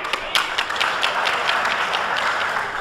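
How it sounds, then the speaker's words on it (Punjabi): An audience claps together at a Punjabi stage drama show, a steady burst of applause with distinct hand claps throughout, moderately loud and not far off. "ਸ਼ਹਿਰੇ ਚ ਆਏ ਨੇ ਰਲ ਕੇ ਵਜਾਓ ਤਾੜੀ"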